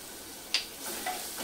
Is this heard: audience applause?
no